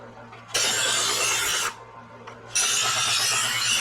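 A knife blade drawn slowly through a sharpener gives two long, steady rasping strokes, each roughly a second or more, close and loud with a short gap between them.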